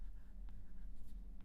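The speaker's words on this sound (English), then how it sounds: "Try writing a few words here." Apple Pencil 2nd gen tip tapping and scratching across an iPad screen while writing, faint short strokes and taps over low background hum, no talking.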